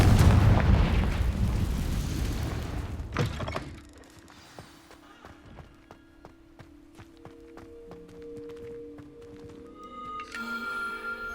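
A Confringo fire spell explodes in Hogwarts Legacy with a loud, roaring blast that fades over about three seconds, followed by quiet dungeon ambience with scattered footsteps and soft game tones.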